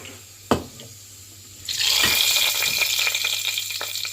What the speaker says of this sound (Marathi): आता हांव हितूर इल्ले उदक घालून घेता